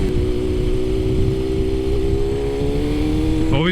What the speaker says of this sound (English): Love the way the bike sounds downshifting.